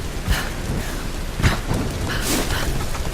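Rain from a thunderstorm in Tomb Raider Definitive Edition hisses steadily, with a few deeper low rumbling bursts of thunder rising out of the downpour.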